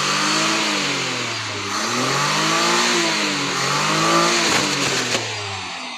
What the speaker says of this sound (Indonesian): Lalu ketika dicoba digas sampai pol